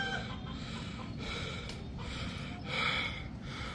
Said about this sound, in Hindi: ये भी असील मुर्गी है।